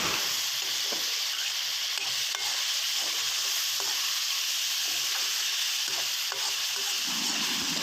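Minced keema frying in a pan gives a steady, loud sizzle with repeated stirring scrapes and clicks throughout, and no voices are heard.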